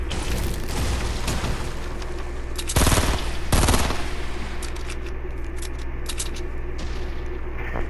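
Automatic gunfire from a first-person shooter video game, a few loud bursts standing out over a steady noisy in-game background, with a brief pause between the two main volleys.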